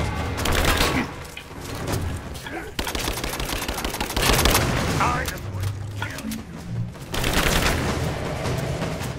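Heavy gunfire in Rise of the Tomb Raider during a fight in the mines, with sustained loud volleys and bursts that pause briefly and resume, and voices faintly mixed in.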